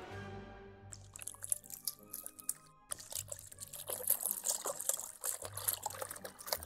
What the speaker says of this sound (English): That's the sound of the river.